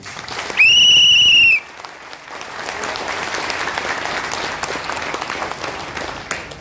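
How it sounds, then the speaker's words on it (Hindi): A loud, high whistle blasts for about a second, then a large seminar audience breaks into a dense, sustained round of clapping that swells and holds steady. "एक बार अपने लिए जोरदार तालियां बजा लीजिए"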